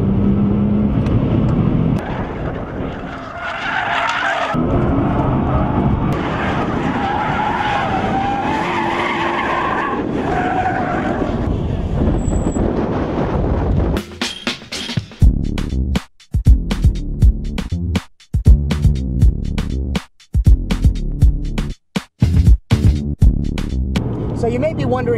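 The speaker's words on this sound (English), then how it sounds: "How can you not take a GT-R and drive it fast on a track?" A 2010 Nissan GT-R driven hard around a makeshift cone-marked course in a lot, with loud tire skidding and engine noise mixed with talk, then a choppy stretch of bursts and gaps in the second half.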